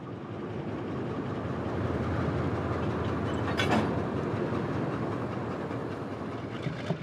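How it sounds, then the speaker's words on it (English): A train rolls in on the rails with a steady rumble and faint clickety-clack, and a brief squeal near the middle, heard from nearby. "the train has arrived."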